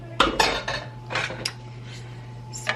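A spoon clinks and scrapes against a metal pan while spooning juice over a dish for a Sunday dinner, several quick close clatters followed by softer scrapes, with no talking.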